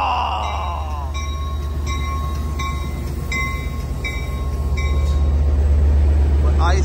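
Amtrak San Joaquin train #713, led by a 2007 F59PHI locomotive, arrives at Richmond Station in California with a loud, steady rumble, squealing tonal brake whine and building rolling noise up close.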